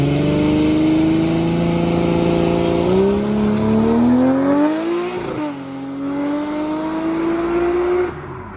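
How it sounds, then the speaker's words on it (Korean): Toyota 2JZ inline-six engine from the JZ series, its exhaust droning loud and steady, rising in pitch as it revs up, dipping briefly, then climbing again before easing off near the end. "2JZ 역시 JZ 본자답게 배기음이 훌륭하며 왜 직렬 6기통에 사랑받을 수밖에 없는지를"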